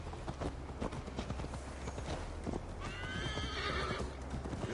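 Horse hooves clip-clop steadily while riding in Assassin's Creed Valhalla on PS5, a close rhythmic gait with a horse whinnying partway through.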